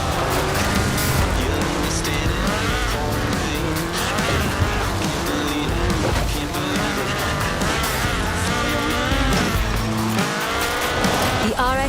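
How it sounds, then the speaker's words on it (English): A Ford RS1800 rally car with a fuel-injected 1790cc Cosworth BDE engine races in Forza Horizon 4, its engine revving hard through rising and falling gear changes with tire squeals, loud and continuous. "This was a car designed explicitly for rallying, with a powerful fuel-injected 1790cc Cosworth BDE engine."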